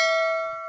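A single bright notification bell chime rings out clearly on its own, its tone held and slowly fading over less than a second.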